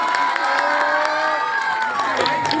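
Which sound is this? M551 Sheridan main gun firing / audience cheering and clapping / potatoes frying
audience cheering and clapping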